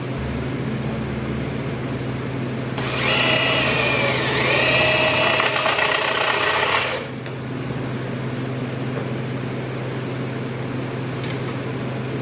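A steady high-pitched power drill whine runs for about four seconds over a constant low hum as it drills into a truck frame, starting and stopping abruptly, with a brief pitch dip mid-run.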